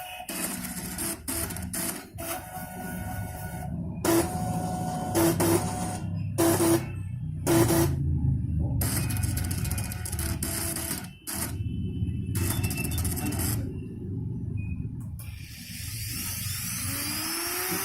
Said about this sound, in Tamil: ஸோ அந்த மோட்டர் மூவ் ஆகுறத உங்களால் பார்க்க முடியும்.